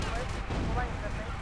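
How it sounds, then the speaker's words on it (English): Heavy, continuous gunfire from GTA Vice City on PS2 roars loud and close, a dense rumble of shots during a vigilante mission with no clear gaps. "people are shooting at us all over the place"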